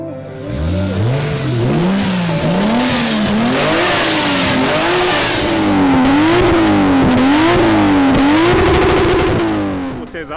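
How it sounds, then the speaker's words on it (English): A 2003 Toyota Altezza's 1G 2-liter engine revs loudly and repeatedly nearby, pitch climbing and falling in steady waves for about ten seconds with no talking. "Nice little engine, not the baddest on the street, but it's a 1G, 2 liter."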